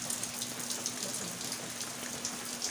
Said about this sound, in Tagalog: Ulan po kayo diri dapita o